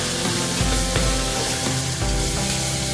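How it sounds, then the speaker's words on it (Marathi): Finely chopped tomato and onion frying in a pan for Indian tomato rice, giving a steady, close, dense sizzle with faint stirring clicks throughout. "बारीक चिरलेला टोमॅटो देखील आपण फ्राय करून घ्यायचा आहे व्यवस्थित."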